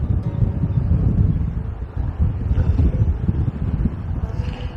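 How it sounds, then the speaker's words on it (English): Wind buffets the microphone in a continuous low rumble, gusting in rough waves at a windy high lookout above a port, with no voices. "Oh, it's windy up here."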